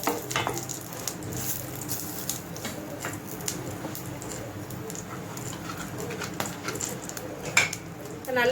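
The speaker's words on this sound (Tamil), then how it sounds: "1 டேபிள் ஸ்பூன் சோம்பு, இது எல்லாமே நல்லா ஃப்ரை ஆகட்டும்" Fennel seeds and spices frying in a pan for seempal tikka give a steady broadband sizzle, with utensil clinks and scraping from stirring throughout.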